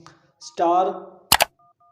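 Phone keypad tones as a balance check code is dialed on a mobile, a short burst of beeps after a brief spoken phrase, close and clear.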